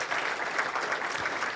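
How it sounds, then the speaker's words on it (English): Audience applause after remarks at an International Anti-Corruption Day event, a steady dense clapping from a crowd with no one speaking over it. "A round of applause for Dr."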